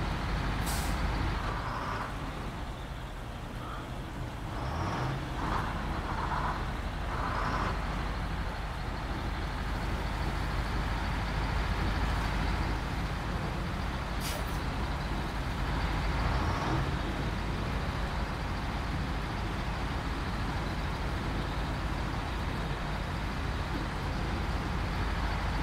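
SnowRunner truck grinding uphill in the game, a steady low engine drone sustained throughout with a few sharp hissing air-brake releases near the start and middle.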